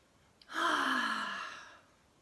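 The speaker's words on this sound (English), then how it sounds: "take a nice deep breath" A single deep breath during a calming tapping session for anxiety, a slow audible inhale swelling quickly, then a long soft exhale fading away, close and isolated in near silence.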